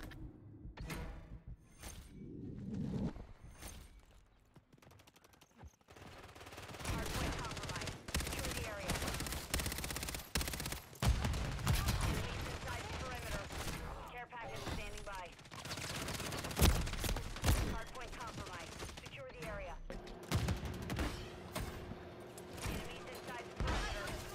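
Rapid gunfire during a Call of Duty multiplayer match, repeated crackling bursts and volleys at moderate level under excited talk, with quieter shots at the start before a dense stretch of shooting.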